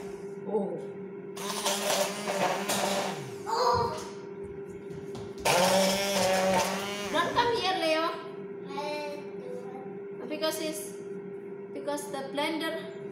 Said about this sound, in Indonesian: jadi saatnya saya blender ya teman-teman